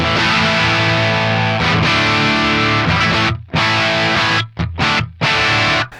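Loud, heavily overdriven electric guitar through a Hiwatt DR103 amp model on the jump setting, playing sustained chords with a crunchy amp tone, broken by a few abrupt stops and brief gaps near the end.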